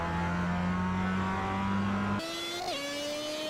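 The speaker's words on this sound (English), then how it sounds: "Listen to those downshifts, they sound incredible, don't they?" Race car engine in the iRacing sim, droning steadily at high revs before the pitch steps up and dips through quick downshifts, loud and close with no talk.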